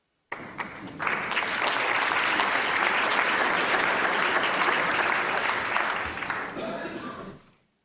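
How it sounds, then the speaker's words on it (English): Sustained audience applause at an awards presentation for staff and members, swelling loud after a brief quieter start and holding steady before tapering off near the end, with faint voices underneath. "another round of applause for the awardees"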